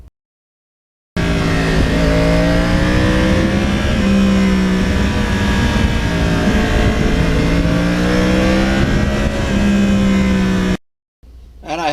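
A 2020 Yamaha R1 sport motorcycle engine revs and drops repeatedly as it rides, loud and close from the seat, with a buzzing mid-pitched tone rising and falling through gear changes.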